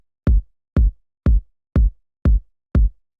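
Six evenly spaced soft, rounded kick drum thumps, deep and short, played alone at a steady quarter-note pace with silence between hits.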